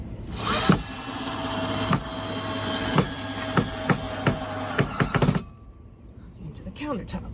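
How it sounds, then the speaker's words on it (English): Power drill boring into a sink countertop during a 1997 Chevy Astro van build, with several short bursts and clicks over steady workshop noise, then a quieter tail. "I'm gonna drill straight into this."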